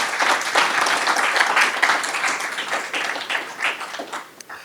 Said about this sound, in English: Maybe we could applaud them for that.